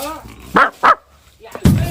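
A dog barks twice in quick succession nearby, loud and sharp, followed by a short voice or yelp.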